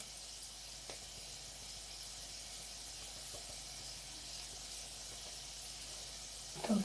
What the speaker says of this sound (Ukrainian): то я поміняла сковороду, переклала, щоб тут обсмажити